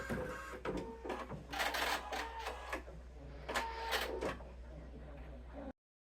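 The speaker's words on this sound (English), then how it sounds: "our bunny is all done on the embroidery machine" An embroidery machine with a thicker needle stitches a thick, fluffy plush bunny ear, giving rapid mechanical whirring bursts and clacking over a steady low hum, moderately close, before stopping abruptly.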